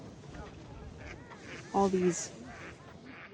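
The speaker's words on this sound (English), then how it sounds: "mallards and geese and herons over here" A single loud honk from a goose among mallard ducks at a wildlife refuge, rising briefly over outdoor background noise and quiet human speech.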